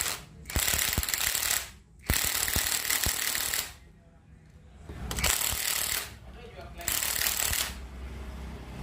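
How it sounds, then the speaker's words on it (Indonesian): A ratchet tightens a nut on a Honda Beat FI scooter engine with smooth raspy clicking in several bursts, separated by short pauses, close and fairly loud. "Jadi murnya ini kita kencangkan."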